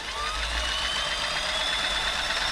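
Toyota model 2640 sewing machine running after oiling and servicing, a steady continuous mechanical whir with a faint high whine and low hum, moderately quiet and close, with no talking.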